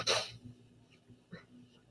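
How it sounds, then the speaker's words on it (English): A single loud sneeze bursts out right at the start in a lecture-hall setting, followed by faint breathing and quiet room noise. "I was going to sneeze anyway"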